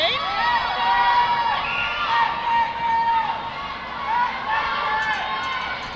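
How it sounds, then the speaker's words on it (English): A netball crowd at a junior national finals match cheers and shouts in rising and falling waves, children's high voices prominent, with a few squeaky shoe sounds near the end. "I'm sure you can hear all the noise coming from the crowd here"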